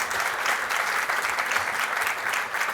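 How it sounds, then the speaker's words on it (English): A crowd at a leadership talk on inclusive growth claps continuously, making a dense, even wash of applause that stays loud throughout. "Some of these guys who are clapping work for me"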